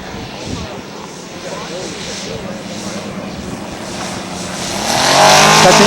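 A scale model Corsair aircraft comes in to land at a scale aircraft show, its engine droning steadily at moderate distance and swelling louder near the end. Voices talk over it.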